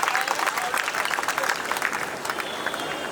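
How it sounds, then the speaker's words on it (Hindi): Audience applause at a municipal parking inauguration in Najafgarh, Delhi, welcoming MP Kamaljeet Sehrawat: a dense, steady wash of many hands clapping together, sustained and fairly loud throughout. "एक बार जोरदार तालियां बजा दीजिए"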